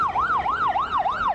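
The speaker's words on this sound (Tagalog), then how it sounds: "wala na halos tigil ang pag-alingaw-ngaw ng mga ambulansya" Ambulance sirens wail in a steady, repeating up-and-down sweep, four even cycles, loud and close with no voices, as ambulances head toward schools in Antique.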